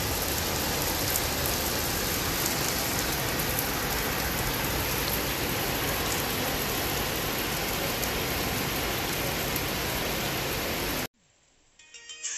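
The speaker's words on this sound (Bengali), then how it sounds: "বহুত দিন পর এরকম বেশ ঝমঝমে বৃষ্টি দেখতে পাচ্ছি ছাদেতে" Heavy rain pours steadily onto a rooftop in India, a dense continuous roar that holds for about eleven seconds before cutting away to near quiet.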